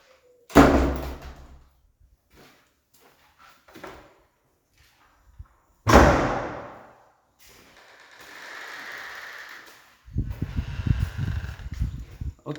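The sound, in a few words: house doors being closed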